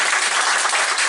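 A crowd at a Woori Bank alumni association gathering applauds a columnist speaker, a loud, dense wash of clapping that holds steady throughout the brief moment.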